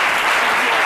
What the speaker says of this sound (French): on vous applaudit très fort